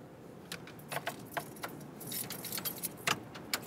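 Keys jangling in a GM ignition barrel of a turbo Saturn car, close-up: a string of light metallic clinks and rattles at an irregular pace over quiet background, with no talking.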